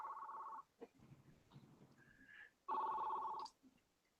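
Two long electronic ringback tones sound on a phone line, separated by a quiet gap with faint background noise.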